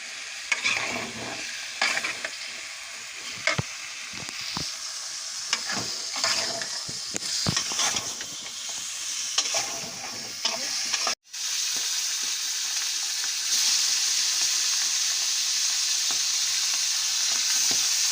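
Jute plant stems and tomatoes fry in oil with cooked-down spices, making a loud, dense crackle and sizzle. Scraping and stirring run through the first half, then a brief cut gives way to an even, steady hiss.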